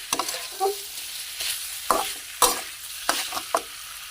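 Pork rinds stirred while frying in oil over low heat, a continuous soft sizzle punctuated by irregular scraping stir strokes and light clacks, close and alone without talk.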